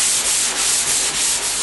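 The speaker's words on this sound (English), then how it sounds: "You can lightly sand them away." Drywall imperfections are sanded lightly by hand, making a steady, close rubbing scrape that comes in repeated strokes with no voices.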